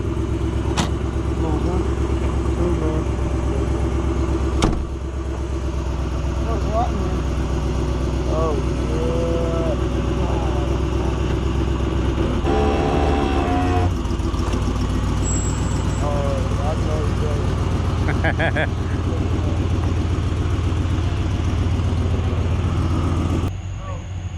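A V8 car engine idles with a continuous low rumble close by, while people talk intermittently over it and a couple of sharp clicks or knocks sound.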